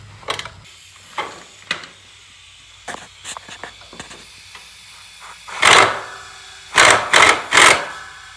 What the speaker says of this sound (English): Alright, so we got a 9/16 wrench on the bottom.